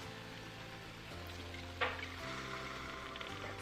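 Beef broth simmering in a pot, a steady soft bubbling sizzle with a low hum beneath and one brief clink near the middle.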